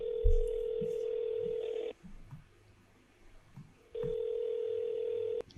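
A telephone dial tone hums steadily for about two seconds, drops to near silence with faint background noise, then resumes at the same level, preceded by a brief soft thump, while someone places a call to a friend at home.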